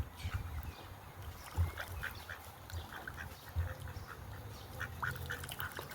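Ducks quack repeatedly in short bursts beside a canal lock, fairly close and clear over a low steady hum, with no voices.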